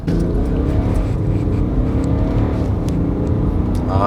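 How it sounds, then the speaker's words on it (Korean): A BMW X3 30d accelerates hard up to 100 km/h, its engine giving a loud, sustained, rising roar throughout, heard close with no voices. "힘있는 가속을 이어가면서 시속 100km를 주파를 합니다"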